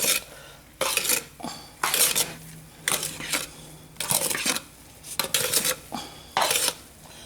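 Utensil scraping and clinking against a pot while stirring a homemade exfoliating soap mixture, in repeated bursts of several strokes separated by short pauses, fairly close and with no talk.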